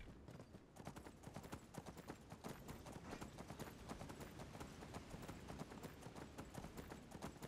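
Horse hooves in a video game with the Legacy mod, a rapid, even clip-clop of galloping hooves running continuously, faint and distant in level, with no other sounds standing out.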